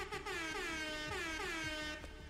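Fortnite's Air Horn emote blares a loud, sustained air horn note in repeated bursts with sliding pitch, filling the clip on its own.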